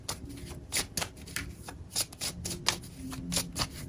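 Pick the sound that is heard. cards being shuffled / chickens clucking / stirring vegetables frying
cards being shuffled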